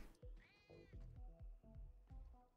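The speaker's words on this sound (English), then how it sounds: "Yeah, she's meowing." A cat meows once in a long, drawn-out cry in Diablo 4, then repeated short low thumps follow.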